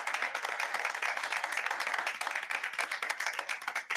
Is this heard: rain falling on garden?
no